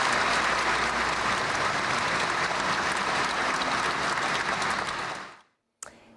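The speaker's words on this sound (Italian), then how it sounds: "Ci fermiamo con questo applauso" Sustained, dense applause from a studio audience closes a regional Veneto news broadcast, loud and even for about five seconds before fading out, followed by a single sharp sound.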